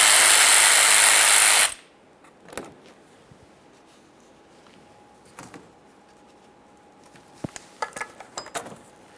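A power tool removing 8mm mounting bolts on a Ford Fusion, a loud close whirring run for under two seconds, then quiet with scattered metallic clicks and ratchet taps.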